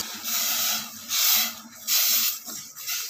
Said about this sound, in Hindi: इसको ऐसे खाली भूनेंगे पहले बगैर घी के